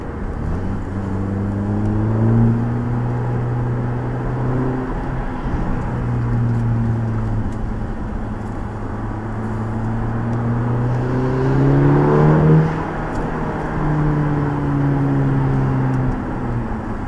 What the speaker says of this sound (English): Just gets that a little bit louder, so that's possibly the point when the valve opens up.